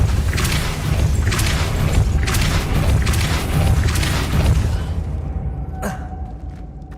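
The Depulso spell is cast in the Hogwarts Legacy video game, producing a loud, deep booming rumble with repeated thumping bursts that fades into a sharp ringing tone near the end.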